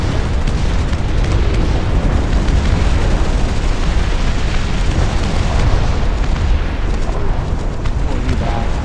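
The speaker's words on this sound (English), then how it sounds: "Hopefully the rocket barrage doesn't hit us." Rocket barrage explosions in the real-time strategy game Dust Front RTS, a dense, continuous rumble of overlapping booms and blasts that stays loud and close throughout.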